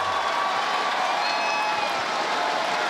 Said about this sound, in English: you can hear some excitement in the crowd